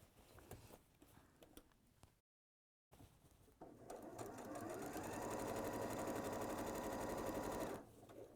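A sewing machine stitches fabric for a skirt, with a steady, rapid whirring run for several seconds after some earlier handling noises and a brief gap.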